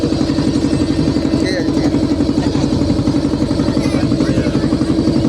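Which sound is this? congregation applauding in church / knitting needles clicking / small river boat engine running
small river boat engine running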